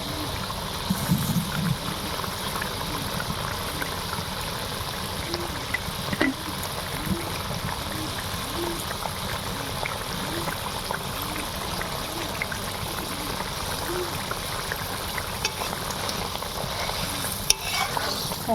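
Bhola fish masala curry cooks in a pan, a steady low bubbling sizzle with gentle stirring scrapes throughout, close and moderately loud.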